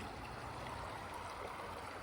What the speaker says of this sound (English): Just fill this, I'm just gonna fill this up with water.